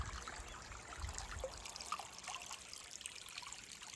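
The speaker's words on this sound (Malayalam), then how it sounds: "ഒരു മേളിൽ നിന്ന് വരുന്ന വെള്ളം കേട്ടോ, മലയിൽ നിന്ന് വരുന്ന." Mountain spring water trickling down over rock: a soft, continuous babble with small gurgles, faint and close, with no voices.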